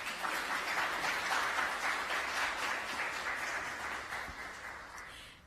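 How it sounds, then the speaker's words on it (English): A pitch-day crowd at Houston's Liftoff event claps for judges walking to the stage, a dense, continuous round of applause that slowly fades toward the end. "you guys can clap as they make their way up"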